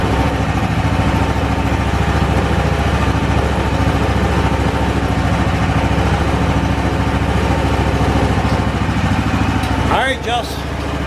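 A Yerf Dog go-kart engine runs loud and steady at close range, a constant buzzing drone that holds for about ten seconds before a brief change near the end.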